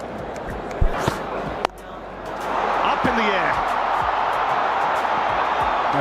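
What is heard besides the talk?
noisy cricket stadium crowd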